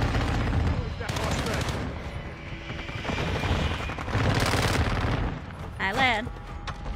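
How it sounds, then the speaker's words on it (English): Video-game airstrike explosions and gunfire come as a continuous dense barrage of loud booms and rapid shots, with a brief whistling sweep near the end. "The airstrike."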